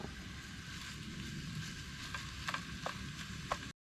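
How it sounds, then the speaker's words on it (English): Soft, steady sizzle of food browning in a hot frying pan at a campsite, with a few faint clicks toward the end, quiet and without speech. "we're already starting to sizzle"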